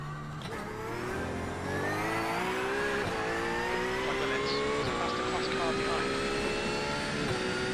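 A GT3 race car engine roars in the iRacing sim, pitch rising steadily in a continuous loud howl as it accelerates with little sign of braking, and a driver talking over it.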